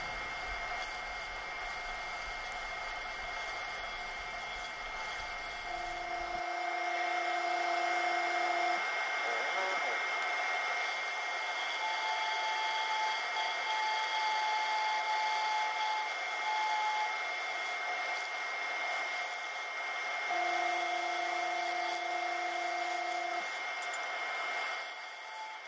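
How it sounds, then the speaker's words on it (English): A steady whirring drone of a wood lathe spinning a pedestal bowl, with a continuous abrasive hiss of 60 to 80 grit sanding, running on without pause; no talking. "So some sanding, 60 grit to 80 grit"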